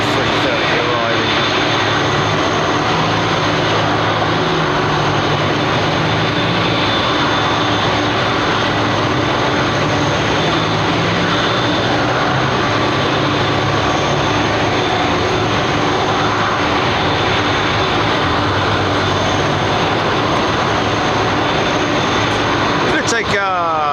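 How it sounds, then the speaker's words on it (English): Airbus A330 airliner arriving at London Heathrow, a loud steady jet engine roar that carries on throughout with a constant rumble and whine, and voices talking underneath. "There's another old, crusty old 330 arriving."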